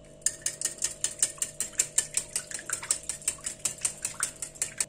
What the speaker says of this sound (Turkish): Şimdi bütün malzemeleri iyice çırpıyorum.